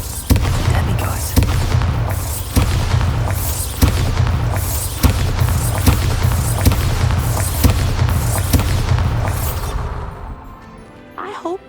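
The Bombarda spell in the Hogwarts Legacy video game sets off a rapid series of loud, punchy explosions, one roughly every second, booming one after another before fading out at the end.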